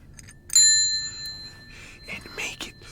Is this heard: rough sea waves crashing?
no